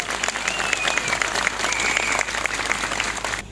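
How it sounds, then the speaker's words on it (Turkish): Audience applauding a mayor at a dairy products market launch in Denizli. The clapping is loud and sustained throughout, with a faint whistle-like tone running through it, and it drops off sharply at the very end. "Seni yürekten alkışlıyorum."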